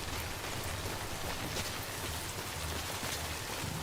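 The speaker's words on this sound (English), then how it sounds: "It is raining, so that means that the ground's gonna be slick." Steady rain falls in Death Stranding, a dense, even hiss of drops that fills the clip at a constant moderate level with no talk.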